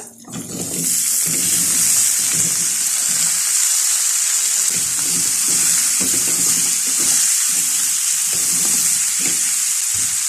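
Zucchini tipped into spices already fried in a pan sets off a loud, continuous sizzle, broken by rhythmic scraping and stirring strokes. No one speaks.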